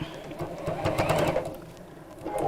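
A chunky-needled sewing machine, an Elna, stitches around the edge of fabric during a live sewing stream, running in a short steady burst with a soft mechanical rattle that eases off toward the end.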